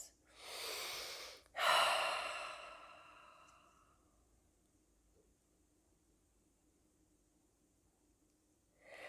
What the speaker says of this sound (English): Breathe and relax.